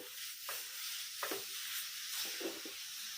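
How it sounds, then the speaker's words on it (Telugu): A utensil stirs a grated potato mixture in a pan over low flame, soft scraping strokes at irregular intervals over a steady, quiet sizzle. "ఇది మిక్స్ అయ్యేంత వరకు మనం లో ఫ్లేమ్లో పెట్టుకొని మిక్స్ చేసేసుకుందాము"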